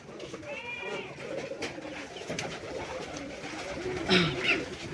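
Soft pigeon coos rise over a busy background of rustling and distant clatter, with a brief louder call near the end.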